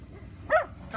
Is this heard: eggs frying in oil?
no